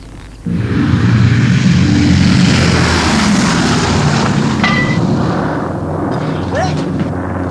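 Several B-17 bomber engines drone loud and steady at close range, a dense sustained propeller roar starting abruptly and holding throughout, with a few faint clinks and chirps over it.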